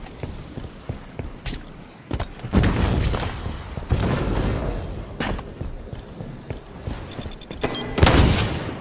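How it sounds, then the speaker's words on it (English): Grenade blasts in a video game go off as several heavy booming thuds spread across a busy, loud scene, with some clatter and a sharp metallic rattle near the end. "Throwing grenade!"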